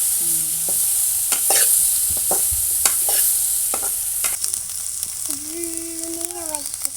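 Ingredients for a chutney frying in oil in a pan, with steady sizzling and repeated stirring scrapes and clinks throughout, close and fairly loud, no talk.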